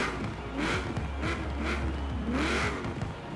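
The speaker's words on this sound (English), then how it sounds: "So here we are with the Bronco outside and you can hear the engine now." A Hoonigan Ford Bronco in Forza Horizon 4 revs its engine in repeated swells, several rising blips of growl over a continuous low hum, fairly quiet and without talk.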